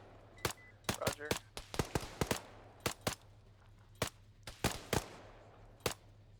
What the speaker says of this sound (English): Look at them shoot over our fucking heads behind us.